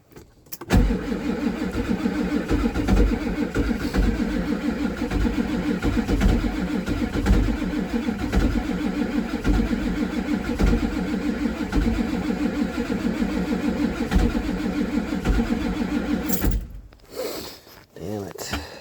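A 1988 Ford F-Super Duty pickup with the 7.3 IDI diesel is cranked and fired in freezing cold, its engine grinding and clattering loudly and continuously for about sixteen seconds, then dropping to a few brief bursts at the end.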